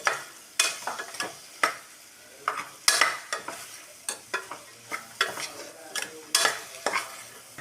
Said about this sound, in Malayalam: നന്നായി വഴറ്റൊന്നും വേണ്ട, ഒന്ന് ഇളക്കി വയ്ക്കാൽ മതി